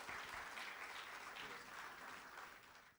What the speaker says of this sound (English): Let's give a big round of applause for this discussion.